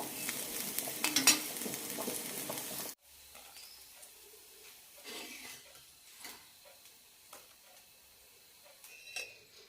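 Bun dosa batter is stirred in a bowl with a spoon, first as a few seconds of dense, close scraping, then as quieter scattered clinks and stirring strokes.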